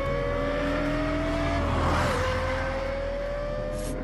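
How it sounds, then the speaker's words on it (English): A high-revving Lexus LFA V10 engine screams at a sustained pitch, dipping briefly as gears shift, loud and continuous throughout. "Only a high-revving V10 engine supplies this combination of power and sound."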